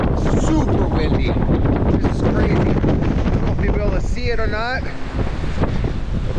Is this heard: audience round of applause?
no